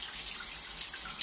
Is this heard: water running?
yes